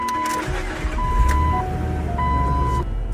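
A homebuilt Jeep Wrangler on its first drive, its engine giving a steady low rumble with a faint whine riding over it, close and continuous with no talk.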